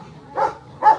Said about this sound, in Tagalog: May aso eh.